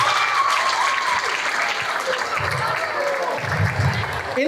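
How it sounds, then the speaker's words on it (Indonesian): Audience applause for a two-time Physics Olympiad winner being introduced on stage, a steady dense clapping that holds loud for the whole stretch with faint crowd murmur underneath. "Tepuk tangan untuk Yudhistira Virgus."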